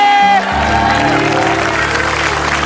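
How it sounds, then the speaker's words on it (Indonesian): Studio audience on an Indonesian TV show applauding steadily and loudly throughout, with sustained tonal music or hum underneath after a brief opening tone. "Tepuk tangan dong untuk kalian"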